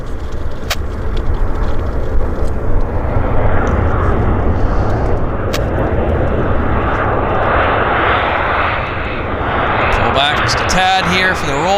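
A CRJ regional jet touches down at Vancouver International Airport, a loud, sustained broadband engine roar filling the whole stretch, with voices talking faintly over it.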